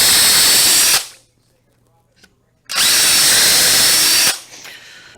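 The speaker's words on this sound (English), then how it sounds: "I'll go ahead and run a countersink into them, and we'll do a one-step countersink" A power drill runs a one-step countersink bit into wooden cornhole board ends, in two loud, close whining bursts separated by a quiet pause of about a second and a half.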